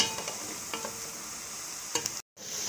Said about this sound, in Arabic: انا كده حطيت الثوم اهو، هقلب فيها بقى لحد ما كله ياخد لون بعضيه